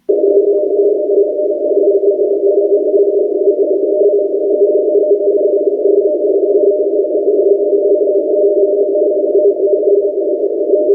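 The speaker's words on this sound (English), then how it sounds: "this is a type of Morse code that is sent out to Russian nuclear armed submarines" Steady continuous tone of a Morse-style radio signal reportedly sent to Russian nuclear-armed submarines, holding one unbroken pitch for the whole stretch with no audible keying gaps, loud and alone with no talk.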